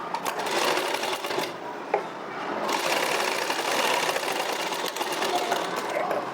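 Sewing machine stitching a diagonal seam on a blouse tassel made from border fabric, a steady fast whirring needle run close by that continues almost without pause.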